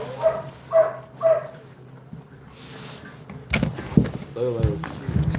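Lulu, a mother dog out with her puppies, gives three short yelping barks close by. Quieter whines follow, then thumps and brief handling noises, with a person speaking near the end.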